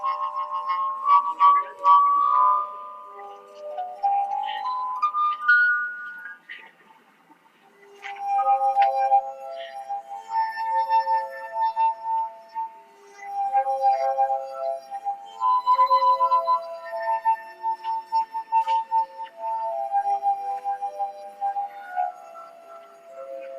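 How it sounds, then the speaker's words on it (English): A singing wine glass played by hand carries a melody, pure sustained tones gliding and shifting pitch in slow phrases, clear and fairly close, with no voices. "Similar to your classic singing wine glass"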